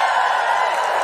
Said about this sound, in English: So if you just give us a cheer if you listen to the podcast.